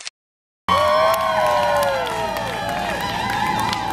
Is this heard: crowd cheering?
yes